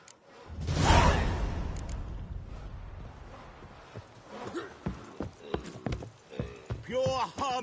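Horse hooves clip-clop at a gallop during a race in The Witcher 3, a loud rush of movement early that settles into rhythmic hoof beats, with crowd cheers and a voice speaking over the later part.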